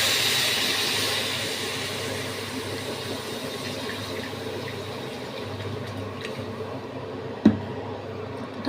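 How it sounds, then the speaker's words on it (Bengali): Water poured into a hot pan of spiced carambola chutney hisses loudly at first, then settles into a softer, steady sizzle and bubble, close by, with a faint clink near the end. "এইবার আমি জল দিয়ে দেবো।"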